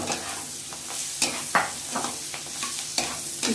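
Chopped onions frying and being stirred in a pan for butter paneer masala, a steady sizzle broken by several scraping stirs and soft spoon knocks, close by with no talking.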